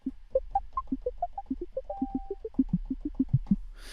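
A rapid run of short, plucky notes from an Ableton Analog synthesizer, each cut off sharply, hopping up and down in pitch in a quick, bouncy pattern.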